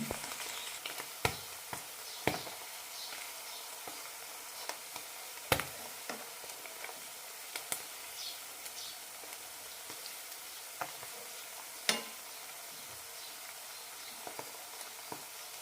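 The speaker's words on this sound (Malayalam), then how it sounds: "മീഡിയം ഫ്ലെയിമിലിട്ട് രണ്ട് മൂന്ന് മിനിറ്റ് നന്നായി വറുത്തെടുക്കാം" Paneer pieces fry in oil on a medium flame with a soft, steady sizzle, broken by scattered sharp pops and crackles close up, with no voices.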